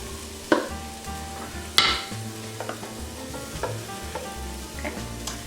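Fresh red pepper hits a hot pan of garlic and ginger and sizzles steadily, while a spoon scrapes and stirs in a few loud knocks and softer strokes.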